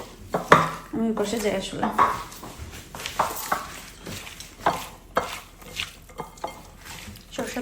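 Food mixed by hand in a bowl after a pinch of salt goes in, giving irregular wet squishes and clacks against the bowl, with bursts of nearby handling and occasional talk.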